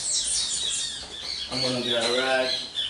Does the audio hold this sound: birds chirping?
yes